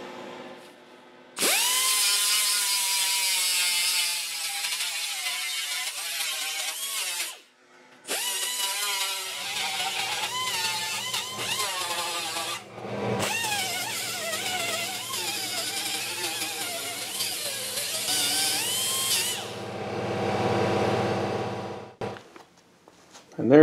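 A power tool grinds down and blends a weld in long, loud, high-pitched bursts, whining and shifting pitch as it bears on the metal, broken by short pauses.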